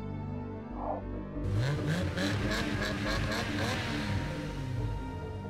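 A car engine in the Midnight Club 2 racing game with a smooth, electric-like whine that rises into a strong, steady revving drone after a quiet start, loud and alone.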